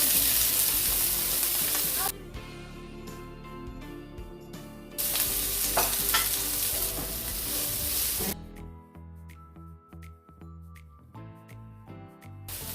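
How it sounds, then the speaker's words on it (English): Onions frying in a pan for stir-fry noodles give off a loud, bright sizzle with stirring scrapes, broken by quieter gaps, then dropping to a faint crackle with clinks near the end. "So I'm just going to start by adding my onions."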